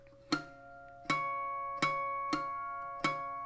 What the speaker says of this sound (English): you just lightly touch that and pluck the string. It should create a high-pitched noise